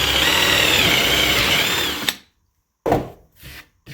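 A power drill bores into a punched mark in wood, whining loudly and steadily for about two seconds before stopping, followed by a couple of short bursts of handling noise.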